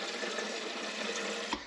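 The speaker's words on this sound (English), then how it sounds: "I'm going to use the kettle to fill it, just because it's a convenient thing to put water into." Water pours steadily from a kettle into a rice cooker, a continuous close splashing stream that ends with a small knock near the finish.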